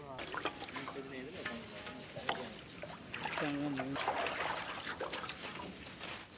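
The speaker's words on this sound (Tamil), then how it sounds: "கலக்கினாலும் நல்லா கலக்கு." A watermelon jelly mixture is stirred in a pot with faint scraping, swishing strokes heard under a soft, quiet voice talking nearby.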